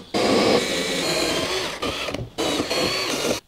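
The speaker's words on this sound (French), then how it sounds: "maintenant, on va aller percer les trous." A drill boring holes for multilayer water pipes in a home plumbing installation, two loud, close bursts of steady whirring separated by a brief pause.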